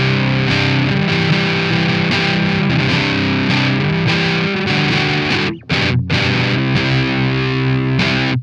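Mastro Valvola OFF1 octave fuzz pedal with its gain turned down, giving a cleaner but still driven electric guitar tone in loud sustained chords and notes, with two brief breaks near the end.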